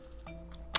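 A single sharp click of a computer keyboard key being pressed during a video editing shortcut, brief and close, over a faint electronic hum.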